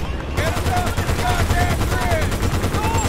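A turret machine gun fires in rapid sustained bursts in Battlefield: Bad Company 2, loud and continuous, with whistling game effects over the rattling shots.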